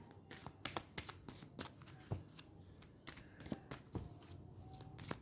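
Tarot cards are shuffled and pulled from a deck, giving a run of quiet, crisp papery flicks and slaps in an irregular rhythm, close by with no talking.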